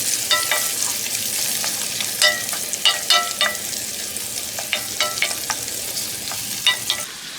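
Sliced green chilies, garlic and ginger fry in a pan over medium heat, a continuous hiss and sizzle broken by scraping stirring strokes, close and steady with no talk.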